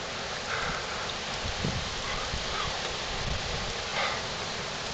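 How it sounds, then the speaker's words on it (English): Water rushes steadily down a residential street after a hailstorm and tornado, a continuous broadband wash of flowing runoff with occasional patters and drips, close and fairly loud. "Water rushing down the street."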